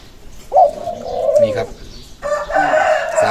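A zebra dove coos inside a birdcage, its soft rolling calls repeating close by while someone speaks over and between them.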